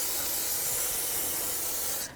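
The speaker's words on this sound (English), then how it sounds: "I'm going to clean this up. This little parts cleaner." Parts cleaner sprayed from an aerosol can onto a car axle during a front wheel bearing and hub job on a 2009-2014 Nissan Maxima, a steady close hiss for about two seconds that cuts off at the end.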